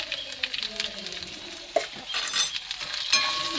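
Beans being stir-fried with gram flour (besan) in a pan, with soft sizzling, a spatula scraping and clinking against the metal, and quiet talk underneath.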